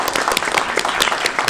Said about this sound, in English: If we could give Monica and Victor a round of applause